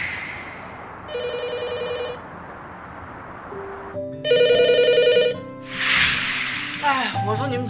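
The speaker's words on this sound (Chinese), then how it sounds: "谁的电话谁接一下呗" A telephone rings indoors in two separate bursts of electronic trilling, loud and near, and voices briefly follow the second ring.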